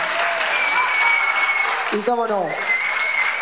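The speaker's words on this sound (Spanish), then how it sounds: "¡Un aplauso para ella!" Applause from a crowd at a presentation of the festival ladies for the Guardo town fiestas, steady clapping throughout with someone speaking briefly over it midway.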